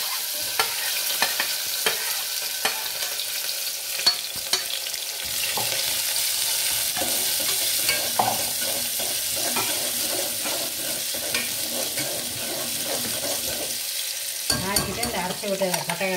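Onions and curry leaves fry in oil inside a pressure cooker, a continuous loud hiss and crackle with intermittent scraping stirs, rising in intensity partway through and holding steady to the end.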